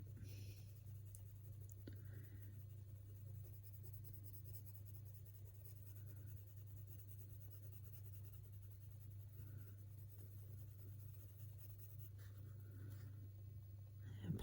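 Faber-Castell Polychromos colored pencils rubbing on paper, a faint, steady scratchy stroking that continues unbroken and close, with a low constant hum beneath.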